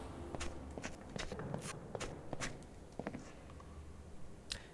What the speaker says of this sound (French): J'ai l'impression d'entendre des bruits de pas qui sont pas les miens des fois.